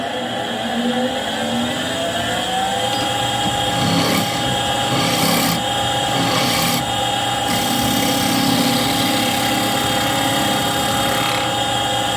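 A wood lathe spins a vase blank while a small half-inch spindle gouge cuts it, producing a steady motor hum with a continuous scraping, shaving texture that swells slightly at moments, close and alone.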